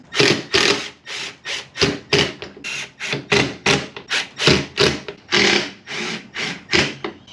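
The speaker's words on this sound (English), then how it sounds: "We can screw this down." Screws being driven by hand into wood while building a potato cannon, giving a close, loud run of rhythmic rasping, ratcheting strokes that repeat steadily without speech.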